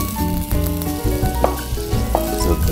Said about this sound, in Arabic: زبدة قاعد تطبخ